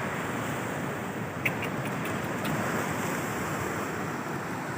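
Strong surf at a beach along the Aurora coast roars in a steady, dense wash of breaking waves, mixed with wind buffeting the microphone and a few faint clicks.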